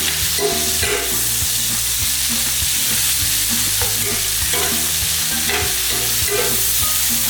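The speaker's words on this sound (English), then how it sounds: "So just stir it round, wilt it down a little bit." Steak fajita vegetables being stirred in a hot frying pan that still holds the meat juices, a loud continuous sizzle with repeated scraping strokes of the spoon against the pan, no voices.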